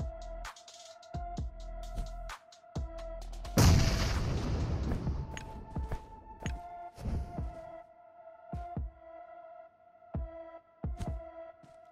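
A grenade and molotov go off in the mobile battle royale game PUBG Mobile: one loud burst of explosive noise that tails off over several seconds, set among repeated sharp thuds and a steady electronic hum.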